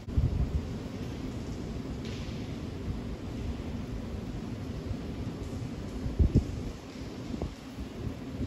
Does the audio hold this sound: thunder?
yes